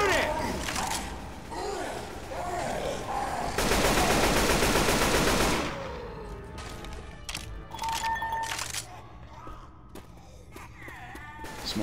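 Rapid automatic gunfire from a Left 4 Dead 2 firefight builds to a dense, loud sustained burst, then breaks into scattered shots while players shout and talk throughout.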